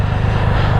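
A 2022 Triumph Rocket 3 R motorcycle engine is revved in neutral, giving a brief, loud, close-up, low-pitched mechanical drone with a throbbing pulse and no talking over it.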